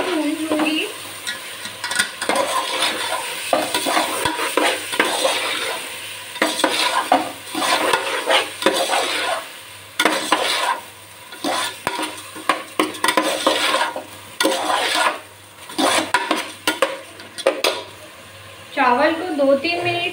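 About half a kilo of rice is fried in oil for pulao while a spoon stirs it around the pan: continuous scraping and rattling over a light sizzle, close and fairly loud.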